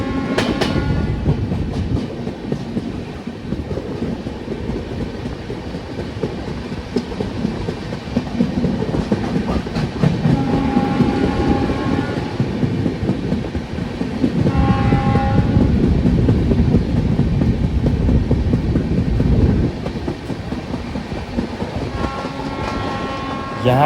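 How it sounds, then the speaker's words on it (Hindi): Loud, continuous rumble and rhythmic clickety-clack of wheels from on board the Darshan Express, a non-AC train running at speed through Faridabad station. Horn-like tones rise briefly at points. "ट्रेन स्किप करने वाली थी फरीदाबाद स्टेशन को।"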